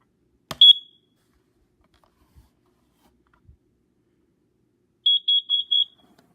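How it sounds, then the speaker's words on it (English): A Kidde Worry Free carbon monoxide alarm under test gives one short shrill chirp, then after a quiet pause a loud rapid burst of four piercing beeps, close to the microphone with nothing else around. "let's test a carbon monoxide alarm"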